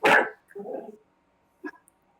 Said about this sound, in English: While the dogs were barking wild.